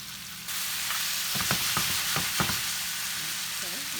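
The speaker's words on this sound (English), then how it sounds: "we're going to add our potatoes in" Three medium-sized potatoes go into a hot pan with turkey bacon, raising a steady close sizzle of frying, with a few stirring scrapes of a utensil partway through and no talk.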